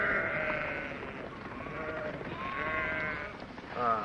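A flock of sheep in open sheep country bleats steadily in an episode of the TV series The Lone Ranger, "Sheep Thieves", with several wavering cries overlapping, fairly near and continuous, and one louder bleat at the end.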